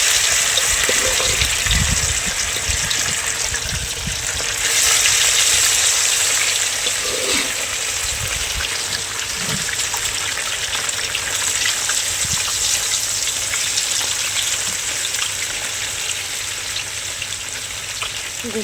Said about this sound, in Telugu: మనకు నూనె అయితే బాగా కాగిపోయింది మనకి, కాబట్టి మనం దాని ముక్క అయితే ఇస్తున్నాం